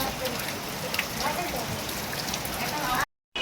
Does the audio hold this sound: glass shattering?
no